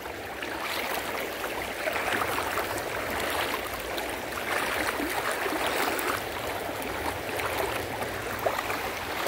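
Cold, fast-flowing river water rushes steadily in a broad, hissing wash with gurgling texture, close and continuous with no voices.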